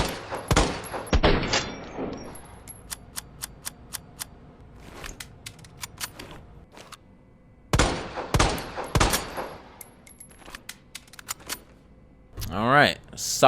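Robert Kendo's infinite-ammo gun in Resident Evil 2 Remake fires a series of loud, sharp shots in spaced bursts, with mechanical clicks and handling noises between them and a quieter stretch in the middle.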